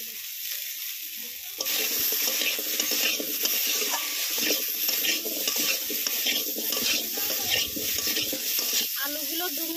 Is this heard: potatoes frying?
yes